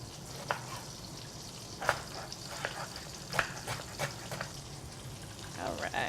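Minced garlic hits hot oil in a pot for a Moroccan lamb stew, giving a low, quiet sizzle broken by scattered sharp crackles and pops.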